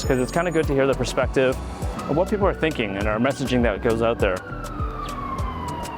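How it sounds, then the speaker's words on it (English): Emergency vehicle sirens wail continuously in the background while a person talks over them in a noisy indoor space, the rising and falling tone clearly audible under and between the speech. "Sorry for the sirens, it's kind of noisy in here."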